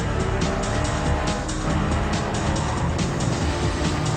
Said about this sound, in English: The 2 Porsche drivers drag racing.